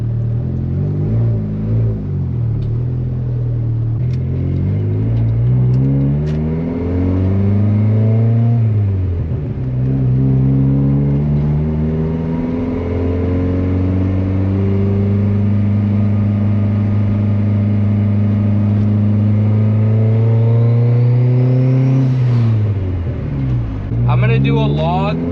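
A $500 turbo Honda Civic with anti-lag accelerating on a drive, its engine revving up through rising tones, dropping at a gear change, climbing and holding high, then dropping again, loud and close from inside the car.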